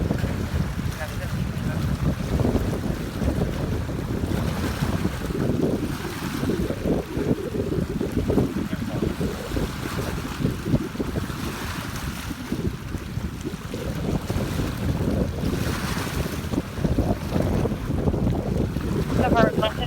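Wind blows hard at the beach beside choppy water, buffeting the microphone with a continuous rough roar. Faint wave wash sits underneath, and the gusts rise and fall over the whole span.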